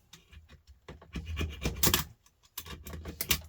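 A box knife scrapes a small plug end clamped in a vise, giving repeated short rasping strokes in uneven bursts, close and clear with no talk.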